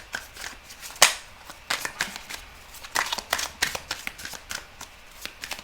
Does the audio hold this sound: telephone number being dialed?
no